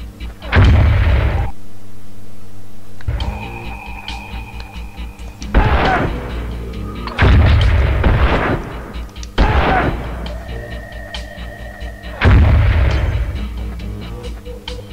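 Tank cannon fire in the Spec Ops: Covert Assault video game, with several heavy booming blasts at irregular intervals. Each blast rings out loud and close, with rumbling decay and game ambience between shots.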